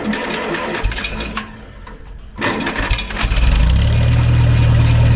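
A small antique engine at a tractor and engine show sputters, then catches and runs with a steady, rapid putter, loud and close, with no talking.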